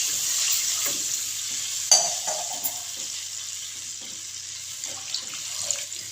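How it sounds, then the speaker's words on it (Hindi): A glass of water is poured into fried masala in a pan for potato curry, giving a hissing sizzle with a sharp splash at the start that settles into a soft bubbling simmer, with no speech. "यहाँ पे 1 गिलास मैंने पानी का डाल दिया।"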